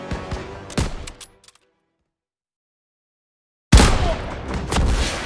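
In a Call of Duty WW2 battle, bursts of loud gunfire are aimed at machine-gun nests: several sharp shots at the start, then a brief silence, then another heavy, sustained burst of gunfire.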